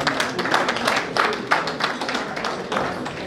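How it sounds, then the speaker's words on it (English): Scattered hand claps from a small group at a Rotary Club installation ceremony, uneven and somewhat sparse, with a few sharper claps standing out. "he has requested that we should give a round of applause for Jack Onde and all his students."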